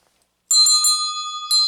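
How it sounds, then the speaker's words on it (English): A small bell rings out clearly after a moment of silence, struck several times in quick succession with bright, sustained ringing tones and a final strike near the end. "I forgot to ring the bell at the beginning and at the end"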